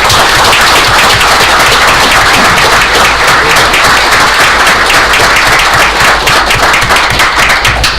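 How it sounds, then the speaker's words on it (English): Dense, loud applause from a gathered audience at a Pequannock Township event honoring a police officer, sustained clapping filling the whole stretch without pause. "I ask you to thank him with a round of applause"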